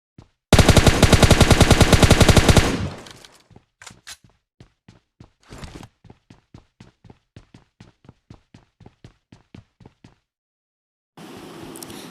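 Gunfire in the mobile game PUBG Mobile Lite: a loud, rapid automatic burst for about two seconds, then a long series of quieter single shots spaced roughly evenly, a brief pause, and another loud burst at the end.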